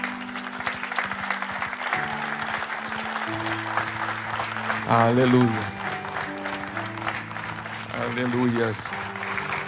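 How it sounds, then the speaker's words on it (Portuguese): A church congregation claps for the Lord, a continuous wash of applause mixed with voices calling out and tonal singing or music that swells in two bursts. "Dê uma salva de palmas ao Senhor."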